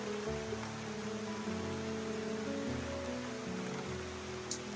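Steady outdoor rainfall, the season's first, hisses evenly throughout as a dense wash of drops on surfaces, with a low constant hum underneath and a faint sharper patter near the end.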